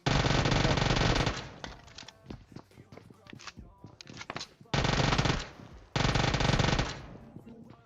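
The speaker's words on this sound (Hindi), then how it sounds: "अब ऊजी गन बहुत खतरनाक है" Uzi submachine gun in PUBG firing long full-auto bursts at close range, three sustained streams broken by shorter gaps with scattered single shots and footsteps, with faint talk underneath.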